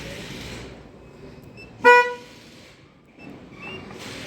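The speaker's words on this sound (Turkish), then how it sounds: "Evet korna sesi geldi." A single short car horn toot from an Opel triggered by a remote-start alarm system sounds clearly in the middle, over a low hum of background noise.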